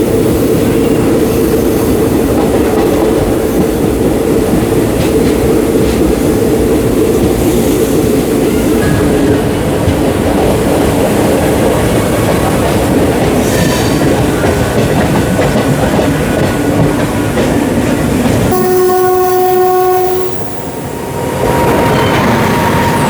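A passenger train running on the Hubli to Chennai line rumbles with a loud continuous clatter of wheels on rails, and a horn sounds briefly near the end over the steady roar.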